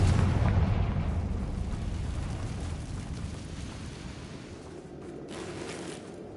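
A Confringo fire spell exploding in the Hogwarts Legacy game on PS5, a loud deep rumbling blast that fades slowly into a lingering low roar, with no talking.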